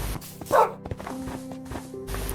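A dog in a video game gives a single short bark near the start, over a steady low background of game sound.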